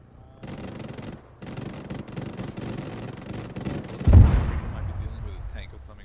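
In the ArmA video game, rapid bursts of gunfire rattle for several seconds before one heavy tank shell blast booms out near the end, leaving a low rumbling tail.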